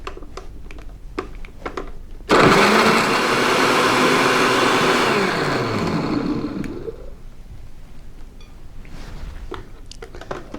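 A blender whirs loudly for about four seconds, blending a vivid red drink, starting abruptly and then winding down, with quieter clatter before and after.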